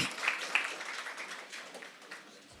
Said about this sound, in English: Shall we give ourselves a round of applause?